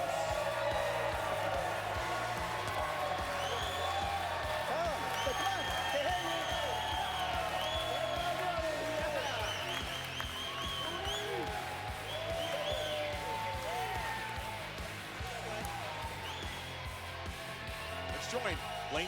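Crowd at the PBA bowling league semifinals cheering, whooping and applauding, a steady loud mass of voices and clapping with occasional shouts across the whole stretch.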